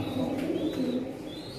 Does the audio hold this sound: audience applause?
no